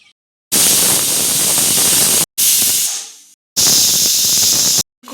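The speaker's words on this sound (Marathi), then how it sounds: "कुकरच्या मस्त 3 शिट्ट्या झालेल्या आहेत" A pressure cooker on a village stove cooking masala rice lets out loud, steady hissing whistle bursts, three in a row, each running one to two seconds with short silent gaps between.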